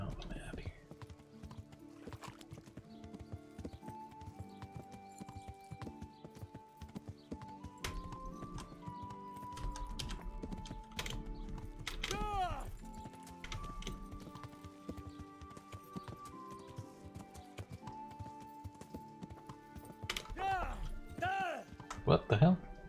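Horse hooves clip-clop steadily in the video game Kingdom Come: Deliverance, a rhythmic trot under game music and someone talking.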